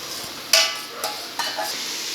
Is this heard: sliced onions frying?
yes